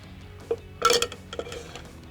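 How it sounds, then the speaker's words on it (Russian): A spoon turns thick, dense Olivier salad in a bowl: a few soft clinks and scraping knocks cluster near the middle, close and fairly quiet, with nobody speaking. "Перемешиваем наш салат."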